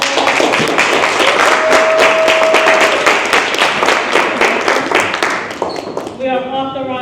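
An audience claps at a Kwanzaa gathering for a guest, the clapping strong and rhythmic across most of the stretch before it thins out and a voice begins speaking near the end.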